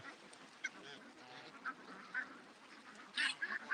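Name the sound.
ducks quacking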